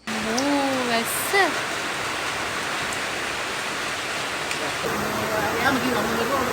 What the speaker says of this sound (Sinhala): වැස්ස.